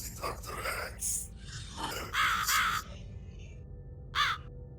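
A crow caws in the dark adventure game The Cat Lady, giving several harsh, raspy caws in uneven bursts, loud and close over a low ambient rumble, with a final caw after a short pause.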